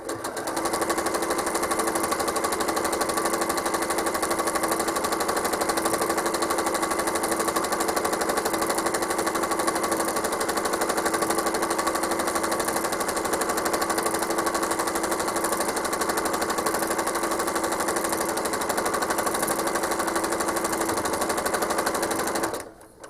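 A quilting sewing machine stitches a ribbon candy pattern on sashing, its rapid even needle chatter running continuously and close for over twenty seconds before stopping abruptly at the end.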